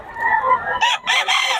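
A white Kelso rooster crows up close and loud, a drawn-out call followed by broken, choppy bursts as the crow trails off.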